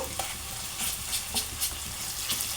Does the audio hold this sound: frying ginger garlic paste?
yes